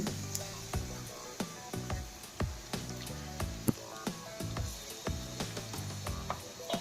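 Onion pakoda batter frying in hot oil, Andhra style, with close, crackling pops and sputters bursting in an irregular, steady rhythm over a soft bubbling hiss.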